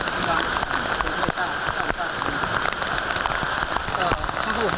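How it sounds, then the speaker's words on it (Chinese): Heavy rain pouring onto a mountain trail, a dense, loud, continuous patter of drops hitting surfaces nearby, with people talking over it. "常会遇到这种大雨吗？"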